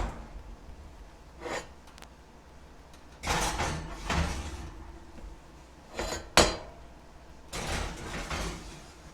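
A kitchen oven door opens and closes as blackberry and peach cobblers go in to bake. Several separate thuds, scrapes and metallic clanks sound at close range over a quiet room.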